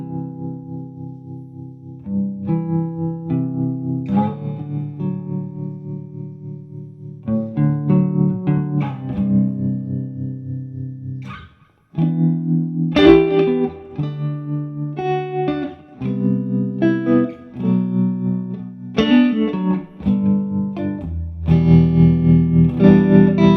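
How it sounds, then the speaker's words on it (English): Electric guitar played through a Two Rock Classic Reverb Signature amp with tremolo engaged, ambient chords and single notes pulsing rhythmically with reverb tails, phrases separated by brief pauses, clear and close with no talk. "So now if I kick in the tremolo"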